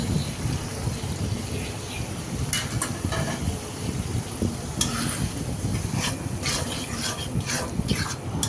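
Eggs stirred together with potatoes in a frying pan for a fish-egg dish, a steady soft sizzle with scraping stir strokes and brief clicks of the spoon against the pan, close and continuous.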